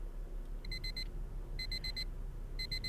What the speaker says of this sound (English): An alarm clock in the goes off right beside me.